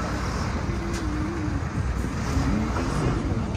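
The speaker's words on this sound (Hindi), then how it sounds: "बहुत ही ज्यादा ट्रैफिक होने के कारण यहाँ पे" Heavy road traffic at Patnitop hill station in Jammu makes a continuous, loud rumble of engines and passing vehicles, with faint voices in the background.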